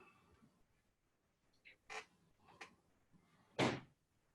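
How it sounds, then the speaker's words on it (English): An indoor door is pushed shut, making a few faint clicks and light knocks before a sharper closing thud in an otherwise quiet room. "I'm going to close this door because somebody's knocking a little bit."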